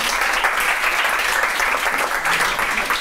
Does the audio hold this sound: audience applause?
yes